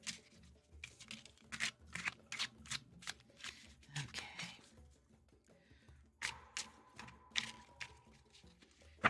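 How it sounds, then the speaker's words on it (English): A short, fat tarot deck being shuffled by hand in repeated quick riffling bursts with soft card slaps between them, close and quiet with no talking. "shuffling is interesting because I just have to keep this finger out of the mix"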